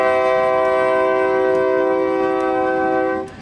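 A Heart of Georgia Railroad local train sounds a long, steady multi-tone horn blast at Cordele, loud and close, over a low rumble, cutting off abruptly near the end.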